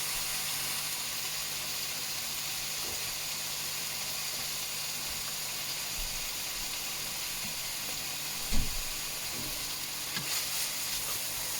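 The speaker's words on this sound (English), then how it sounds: "this is not so much about cooking it, just like searing it, get a nice sear on it" Food sears in a hot pan with a constant, dense sizzle and crackle, close by, broken by a few faint clinks and scrapes from stirring.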